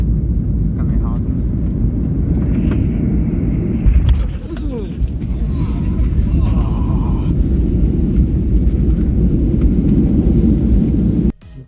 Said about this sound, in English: This Ryanair that was landing at Luton Airport has a very hard landing.